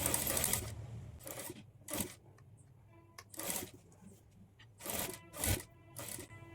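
A sewing machine stitches a blouse neck strip at the shoulder, running in several short loud bursts separated by quiet pauses, close up.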